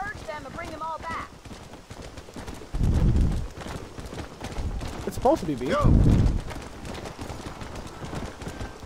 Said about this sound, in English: why did I get left with this slow ass horse?